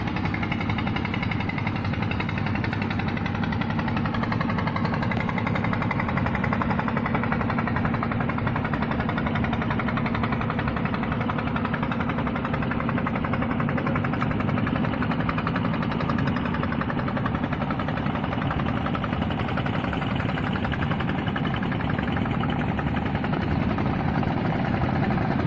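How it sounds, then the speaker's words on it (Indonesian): Fishing boat engines drone on the water, a continuous mid-pitched motor hum that holds steady and fairly loud without pause, as boats pass by a bagan fishing platform. "perahunya tiap 1 menit sekali ada lewat perahu"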